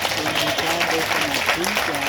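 A church congregation claps for Jesus in a steady, dense wash of applause, with voices carrying over the clapping.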